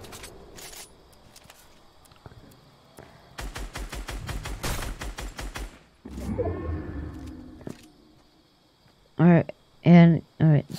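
Gunfire from a Fortnite sniper fight, with bursts of rapid shots, a sustained roar of weapon fire, and several loud, sharp blasts near the end, mixed with game effects.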